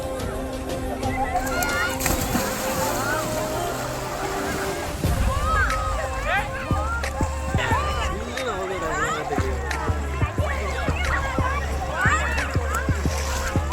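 People bathing in a river outdoors splash and slosh in the water, irregular splashes close by under excited voices and children talking.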